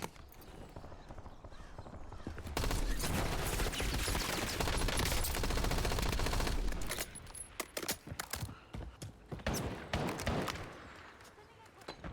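Rapid bursts of gunfire from Warzone crackle in clusters, loud at first and then in shorter volleys.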